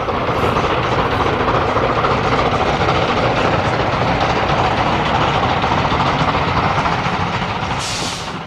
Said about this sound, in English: 8F 48151. Here captured on day 6, the 12th of April 2007, at Bewley while heading for Thurso